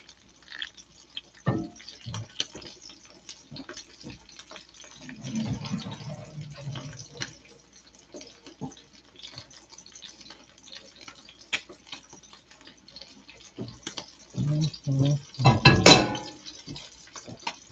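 Pasta draining into a colander in a home kitchen: scattered clinks and taps, a short gush of water midway and a louder burst of pouring and splashing near the end, no voices.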